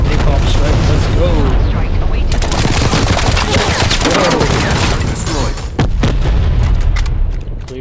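Napalm strike explosions in the video game Call of Duty Black Ops Cold War, a loud roaring barrage of blasts and crackling fire over dense gunfire, with voices talking throughout.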